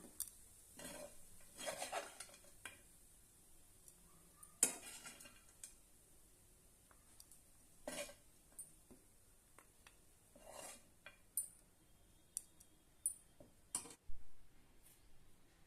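A spoon scrapes and taps against a pan as lemon rice is served out, with sparse, quiet clinks and scrapes at irregular intervals.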